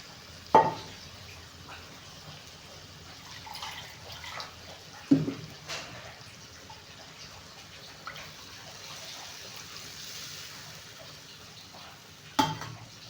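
Lentils poured into a hot pan give a soft sizzle with watery stirring, broken by three sharp clinks of a spoon against the pan at spaced intervals, quiet and close, with no talking.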